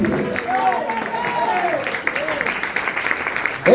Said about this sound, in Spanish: De palmas